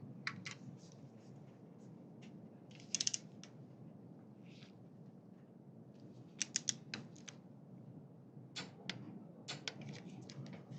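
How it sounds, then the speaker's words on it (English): Torque wrench tightening a Bosch injector pump, giving faint, sparse metallic clicks in small clusters over a low background hum, close but quiet, with no speech. "Let's torque this down."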